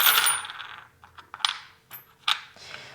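Small metal fortune-telling charms clink and jingle as they are stirred in a basket, a bright rattle at first followed by several scattered light metallic taps and clinks, close and distinct.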